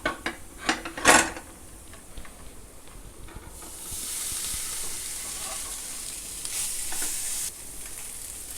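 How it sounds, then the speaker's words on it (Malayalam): Cooked meat tipped into a hot pan sets off a few loud clattering scrapes, then settles into a steady, bright frying hiss that swells and holds close and loud. "ഇനി നമുക്ക് വേവിച്ച് വെച്ചിരിക്കുന്ന ഇറച്ചി ഇതിലേക്ക് ചേർത്ത് കൊടുക്കാം"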